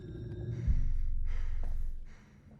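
Loud, heavy breathing from a character in The Devil in Me, a long drawn breath that swells and fades over a couple of seconds with a low, rough rasp.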